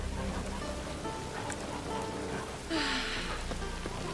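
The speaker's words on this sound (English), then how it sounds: "It is raining." Steady rainfall in The Witcher 3: Wild Hunt, a continuous hiss of drops on surfaces with a brief louder gust of rain partway through, heard alone without talk.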